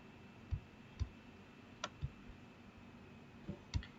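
Computer mouse clicking on a Windows machine, about six distinct short clicks spaced unevenly over a few seconds, close and fairly quiet against a faint background hum.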